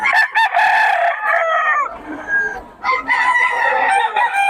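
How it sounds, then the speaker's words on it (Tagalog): A rooster crows loudly nearby, two long strained calls separated by a short pause with some softer clucking between them. "Ulit yung manok."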